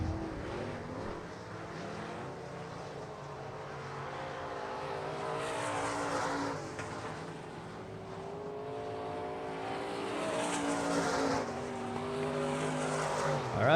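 Non-wing sprint cars race around the dirt track at South Texas Race Ranch, engines snarling and shifting pitch as the pack passes at a distance, with a commentator talking over the noise.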